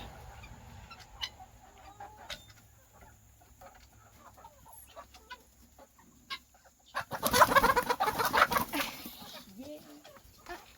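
Chickens on a small home farm during daily chores, with a burst of loud, close clucking and squawking in the last few seconds after a quieter stretch, plus a brief spoken word.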